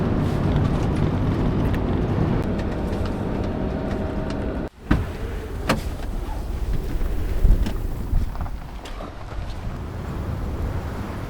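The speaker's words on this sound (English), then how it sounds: "This wind is insane." Strong, gusty wind on the Isle of Skye buffets the microphone in a steady roaring rush, with sudden harder gusts and thumps, loud and close, no talking.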